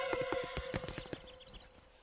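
Cartoon horse hooves clopping in a quick run of close, crisp beats, with a brief whinny layered over a held musical note, fading toward the end.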